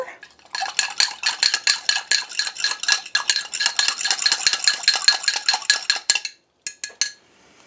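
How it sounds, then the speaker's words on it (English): A whisk clinks rapidly against a glass while stirring cornstarch into cold water, producing a fast, steady metallic rattle close up that stops briefly near the end and resumes with a few final taps. "Whisk it together."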